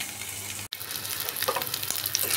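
Eggs sizzle and crackle in a frying pan, browning for an egg-and-potato dish, with a continuous close hiss broken by one very brief cut.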